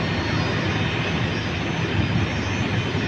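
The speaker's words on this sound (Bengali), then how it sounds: "বিমানটি ঢাকা ত্যাগ করবে।" A Biman Bangladesh Airlines airliner departing Dhaka produces a continuous loud jet engine roar, a steady broadband rumble that holds level from start to finish with no voices.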